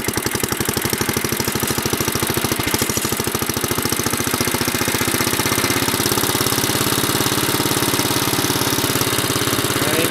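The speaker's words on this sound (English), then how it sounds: "Gotta put her in low gear. Give her a little throttle." A 1948 Ariens tiller engine runs in low gear with a little throttle, a loud, close, steady chugging with a fast regular knock that holds for the whole stretch, with no talking.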